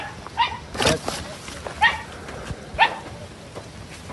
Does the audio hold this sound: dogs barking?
yes